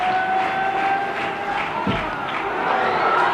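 Big crowd noise fills a Sharjah cricket stadium during a Pakistan versus Australia final as spectators roar at a boundary, a steady, loud wash of cheering with a brief thud partway through.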